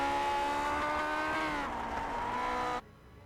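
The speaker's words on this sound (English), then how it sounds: "Take a listen as he revs that engine towards the stripe." A Lotus 49 engine in the iRacing game revs high and steady, one note holding and then easing down before cutting off abruptly to quiet.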